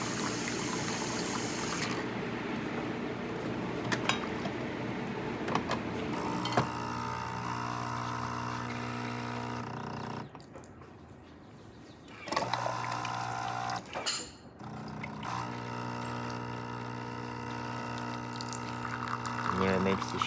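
A Jura XJ9 espresso machine pumps water to pull a shot with a steady mechanical hum and whine. The hum breaks off for about two seconds midway, then resumes with brief clicks and rattles.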